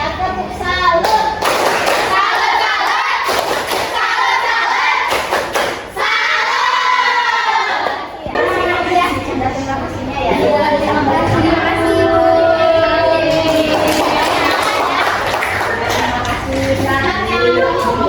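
Classroom students clapping a rhythmic salute clap together in a vocational high school lesson, loud and close, with patterned bursts of hand claps and children's voices mixed throughout.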